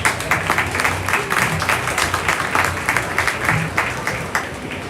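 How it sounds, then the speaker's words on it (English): A crowd at a county fair junior beef show applauds the young exhibitors, a steady burst of many hands clapping with audible individual claps, fairly close and continuous throughout. "Let's give these kids a big round of applause."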